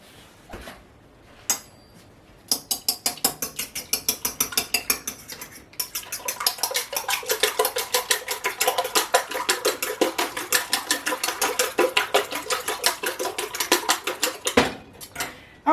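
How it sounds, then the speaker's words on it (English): Eggs whisked with a fork in a bowl for egg drop soup: a quick, steady run of bright clinking taps that goes on for about twelve seconds, close and clear, with no one talking. "we're going to go ahead and whisk those up with a fork."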